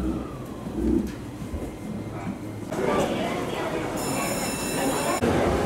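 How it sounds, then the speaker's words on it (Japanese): A train pulls away from a station platform, wheels rumbling and squealing with rising roar and a high metallic screech late on, heard nearby. "ちょうどホームに来ると列車が行っちゃうんだからな"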